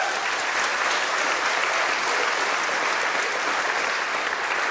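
A concert hall crowd at a classical Christmas evening keeps clapping for the pianist, a sustained, thick roar of applause that holds at a constant level from start to finish.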